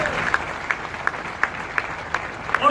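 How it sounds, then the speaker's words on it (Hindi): An audience at a seminar-style talk gives applause in sparse, separate claps spaced about a third of a second apart, with a faint crowd murmur underneath. "जोरदार तालियां"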